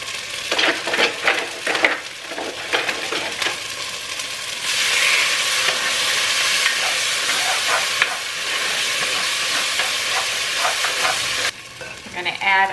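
Sofrito sautés in a pan, with stirring scrapes and clatter over a sizzle early on, then a steady loud sizzle taking over mid-clip before more utensil noise returns near the end, with no talking.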